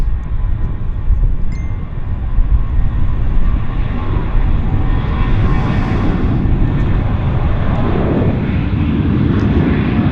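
An aircraft at Vancouver YVR airport, a loud, steady low engine roar holding throughout with a slight swell in the middle.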